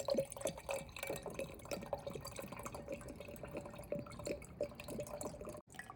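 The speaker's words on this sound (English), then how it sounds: "So first thing I did was pour out all of what I had left over in the original vodka vanilla bean mixture" Leftover vodka and vanilla bean mixture is poured into a container, giving a steady trickling, dripping liquid sound with small splashes throughout, close and moderately quiet, with no talking.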